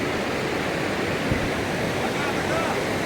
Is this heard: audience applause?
no